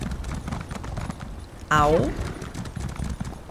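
A horse gallops in The Elder Scrolls Online with steady rhythmic hoofbeats throughout, broken midway by a loud whinny, and a brief voice utterance is heard.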